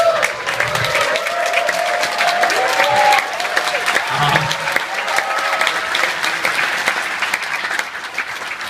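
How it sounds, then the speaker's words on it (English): A theater audience applauds at a film Q&A, a loud sustained wash of clapping and some cheering that carries on steadily, with a few tonal traces in the background but no voices heard. "fuck Iko, he's already had enough applause already."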